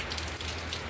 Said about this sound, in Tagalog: Diba ito yung hinihintay natin ang ulan.